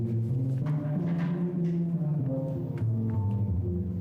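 Deep, mellow bass steel pan notes play a slow melodic line, each low tone ringing briefly before the next, close and moderately loud.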